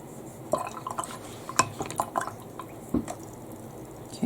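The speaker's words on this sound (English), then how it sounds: "Let's add some water." Water is added to a watercolor painting in a portrait drawing session, producing a few soft, scattered drips and wet dabs spaced irregularly, close and quiet with no talk.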